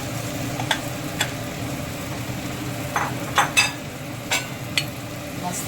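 A spoon stirs mashed potato vada mixture with rava, green chilli and salt in a pan. Soft scraping runs throughout, with several sharper clinks and scrapes against the pan. Nobody speaks.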